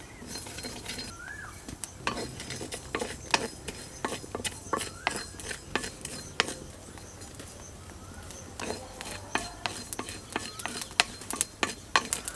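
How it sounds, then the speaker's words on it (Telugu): Coriander, fenugreek and cumin seeds dry roasting in a kadai: irregular light clinks and scraping stirs of a metal spoon against the pan, with faint bird chirps in the background. "ముందుగా కడాయి పెట్టుకొని ధనియాలు మెంతులు జీలకర్ర వేయించుకుని పక్కన పెట్టుకుందాం"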